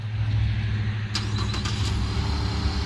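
A 2021 Chevy Colorado ZR2 truck engine turns over by remote start, settling into a steady low idle rumble, with a brief cluster of sharp clicks as it catches, heard from close by.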